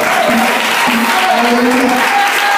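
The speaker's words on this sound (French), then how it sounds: "Acclame très fort." A church congregation claps and cheers loudly and steadily at a French-language worship service, a dense continuous roar of applause with voices mixed in.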